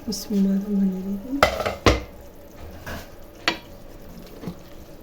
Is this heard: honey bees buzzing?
no